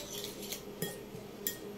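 A spoon clinks against a bowl a few times, faintly, while beating egg with onion, chilli, coriander and a pinch of salt.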